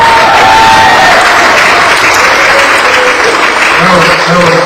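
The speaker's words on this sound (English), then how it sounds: "So let's put a round of applause for Tiara" A crowd at an evening performance in Long Beach gives loud, sustained applause mixed with cheering, the clapping dense and close. Faint talk and a few whoops run through it.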